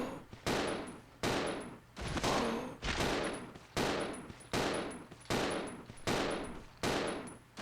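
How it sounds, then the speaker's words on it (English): Gunfire in Resident Evil Zero HD Remaster: about eight loud, sharp shots fired at a steady rhythm, each one cracking and then decaying, with no voices between them. "I shot that guy 7 times!"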